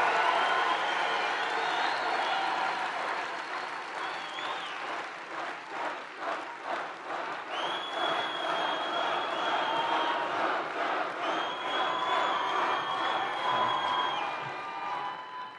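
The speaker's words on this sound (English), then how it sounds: "It's a very energetic crowd, isn't it?" At a Trump campaign rally in Michigan, a large energetic crowd claps and cheers continuously, with rhythmic applause swelling and a few whoops over a dense roar.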